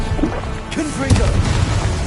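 Blasting spell explosions from a Hogwarts video game, short booming bursts repeated in quick succession under a spoken incantation.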